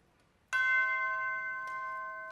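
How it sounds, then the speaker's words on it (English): A single clear bell strike rings out sharply and then sustains a long, slowly fading tone, with a faint second tap partway through. "It sounded like the Christmas bell"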